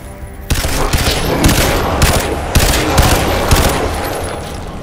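Rapid bursts of automatic gunfire from a weapon in the shooter game Crysis 2, loud and close, with sustained fusillade-like fire broken by short gaps over several seconds.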